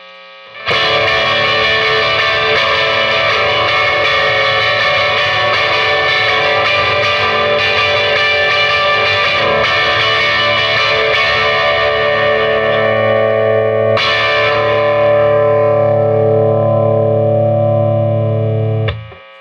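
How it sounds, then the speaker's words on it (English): A sustained, distorted electric guitar chord from a Fender Mustang's bridge pickup rings loud and thick, then a second overdriven strum hits near the end and holds. "That is a really nice overdriven tone."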